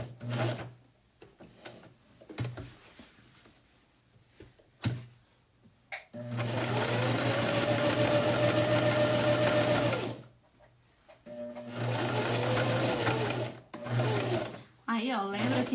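A sewing machine stitches a pocket in two long, loud, steady runs with a pause between them. Short taps and handling noises fall around the runs, and someone speaks Portuguese in the quieter gaps.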